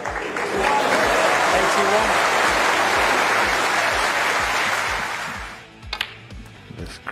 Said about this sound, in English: This Crucible crowd are buzzing